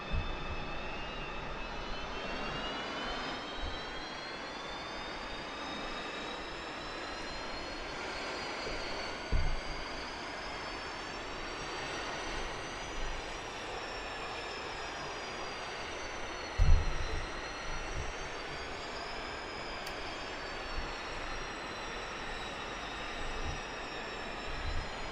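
A jet aircraft taxis in DCS with a steady, sustained engine whine and rising and falling turbine tones. It runs continuously, with a few faint thumps and no talking.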